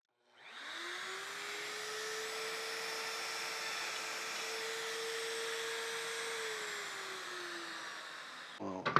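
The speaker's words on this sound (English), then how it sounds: "I set the router here, plunge down 1/4 inch, and I've got the perfect hole for a 1/4 inch pivot pin" A plunge router whines steadily for about eight seconds, boring a quarter-inch pivot pin hole in wood with a circle-cutting jig, then cuts off with a few clicks at the end.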